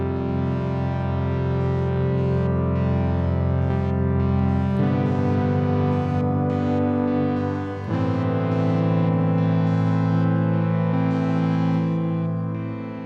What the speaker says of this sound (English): So there's a little bit of glitchiness going on with the filter modulation